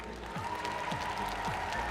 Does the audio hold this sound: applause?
yes